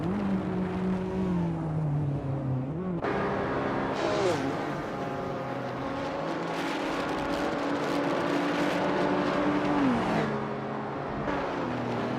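Race cars in a racing video game speed and overtake, their engines whining in rising and falling pitches with gear shifts and overlapping passes, continuous and loud with a commentator-style voice talking over them.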